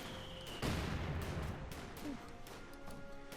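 Artillery in the Company of Heroes 2 strategy game crashes down in a sudden heavy burst of explosions, followed by a few scattered thuds and lighter impacts at moderate distance, fairly quiet overall.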